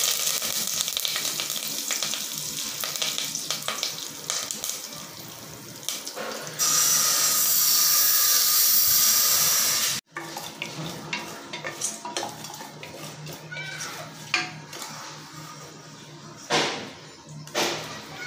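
Mustard seeds and curry leaves drop into hot oil for a mutton head curry, bursting into a loud hissing sizzle that settles into steady crackling frying with scattered pops.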